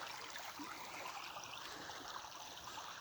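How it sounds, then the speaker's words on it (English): A creek flowing out from underground on the Cariboo Plateau gives a steady, faint trickling and rushing of water, continuous and unbroken. "Another creek that comes right out from the underground."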